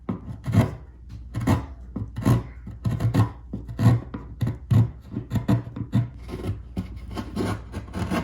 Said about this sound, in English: Just take the chisel along the edge, about a 45, put a little chamfer on them.